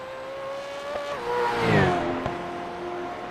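A race car from the ARS Push Rods & Popcorn series accelerates and sweeps past on the Glen road course, its engine pitch climbing and then dropping as it goes by close and loud.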